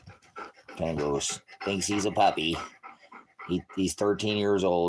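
An old dog, thirteen years of age, pants in quick rhythmic breaths close by while a person talks over it throughout.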